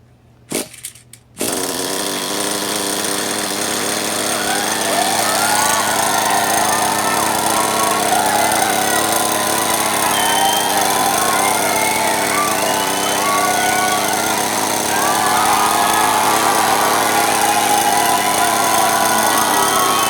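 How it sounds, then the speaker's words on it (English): An RC model engine that sat in storage for two years is pull-started after a few quick tugs, then catches and runs as a loud, steady, buzzing roar close by, with faint shifting tones throughout. "We're going to continue to try to crank her, pull on it, and see if she starts."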